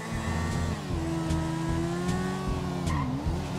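A car in GTA V races after a limousine, its engine droning and shifting pitch steadily with faint tire squeal, loud and continuous throughout.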